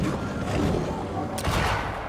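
Gunfire in the video game Banishers: Ghosts of New Eden, a sharp shot cracking out over rumbling game ambience and a low, continuous burst of combat noise.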